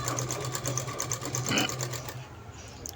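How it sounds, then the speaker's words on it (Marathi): A sewing machine double stitches a blouse with fast, even mechanical rattling close by, the needle chatter running steadily before stopping near the end. "आता इथं मी डबल टिप मारून घेत आहे"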